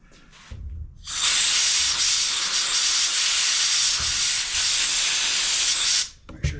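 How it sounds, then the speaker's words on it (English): A strong burst of compressed air hisses steadily into the fuel line fitting of a Power Pro by Wen 5500 watt generator, loud and continuous for about five seconds before cutting off. "I'm going to shoot a little puff of air in it where the fuel line connects."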